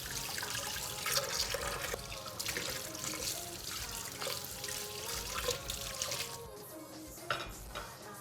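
Tap water runs steadily into a kitchen sink while fish and prawns are rinsed, a continuous splashing flow with small shifts as the seafood is handled, fairly close and with no talking.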